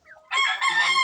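A young native rooster, a stag, gives one short, raspy crow up close, a strained breaking call that lasts about a second.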